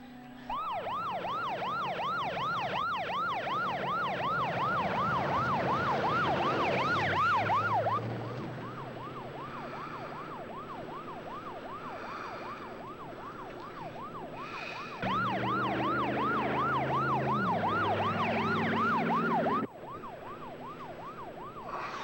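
An ambulance siren wailing in a rapid up-and-down yelp, loud and close, then dropping and returning in bursts with traffic noise underneath.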